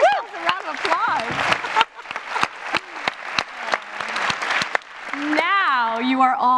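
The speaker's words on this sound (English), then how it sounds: "Give yourselves a round of applause." An audience at the closing plenary of the 2015 Skoll World Forum claps in a dense, sustained round of applause, with voices singing and calling out over it.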